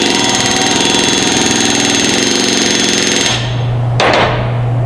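Pneumatic rivet gun driving an AN426 rivet into sheet metal in a shop lab, a loud rapid hammering burst lasting about three seconds, then stopping to a low hum with one short tap near the end.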